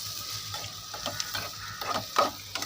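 A ladle stirring chili powder through onion masala in a pan for egg curry, producing repeated scraping strokes over a soft sizzle, close and alone.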